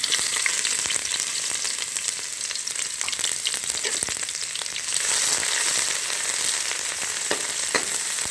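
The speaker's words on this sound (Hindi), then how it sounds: "इसे हल्का सा फ्राई करेंगे" Loud, continuous sizzling of paste frying in hot oil, close up, with occasional stirring scrapes; no voices.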